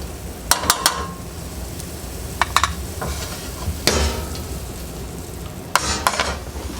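Vegetables cook down in a pan for an eggroll pancake: a soft steady sizzle broken by sharp clinks and scrapes from stirring.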